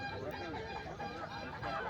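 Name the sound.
country chickens clucking at a market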